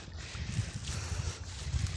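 Low, rumbling wind buffeting the microphone, a steady roar with gusty surges, fairly faint overall.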